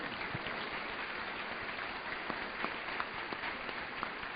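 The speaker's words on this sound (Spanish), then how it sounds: "Den un aplauso al Señor" Church congregation applauding steadily throughout, a dense wash of many hands clapping at a sustained, even level with a few sharper claps standing out.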